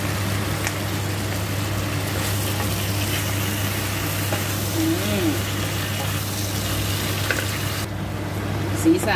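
Kale sizzles and stir-fries in a hot pan with a steady, loud frying hiss that runs throughout, while someone talks over it.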